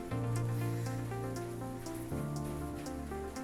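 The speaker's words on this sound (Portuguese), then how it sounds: "Vocês devem estar escutando um barulho aí no fundo, é o barulho de chuva, tá? Começou a chover aqui." Steady rain falls outside during a crochet amigurumi doll tutorial, a constant wash of patter that runs throughout, heard behind a faint tonal hum with no voices.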